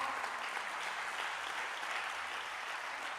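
A church congregation applauds in a dense, even wash of clapping that holds at a steady level from start to finish, with no voices standing out.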